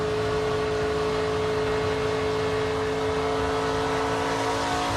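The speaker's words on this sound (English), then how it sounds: "Zane really pulling up on Dean as they enter turn 1." NASCAR Truck Series race trucks roar around the 2023 Texas race track, a dense, unbroken engine drone with steady whine, loud and constant throughout, with no voices over it.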